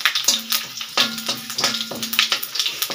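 Bay leaves and panch phoron sizzling in hot oil in a pan as they are stirred, a steady close frying crackle broken by regular scraping strokes about every half second, with no voices.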